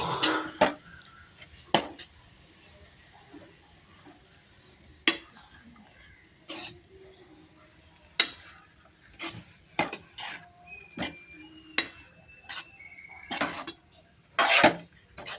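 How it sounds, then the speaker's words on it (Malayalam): A blade scrapes and clinks against a metal pot while stirring a mixture, giving sharp, irregular strokes close by over a quiet background, with a few faint tones and some low voices. "ഒരു ബ്ലേഡ് എടുത്തിട്ട് നല്ലപോലെ ഇളക്കണം."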